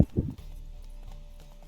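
Horse hooves clip-clop in The Witcher 3: Wild Hunt, a short burst of a few close steps at the start, then fading into a low steady game ambience with no talking.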